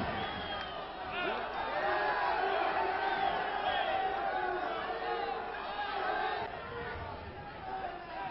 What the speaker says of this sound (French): Tandis que la foule hurle de joie et d'applaudissements.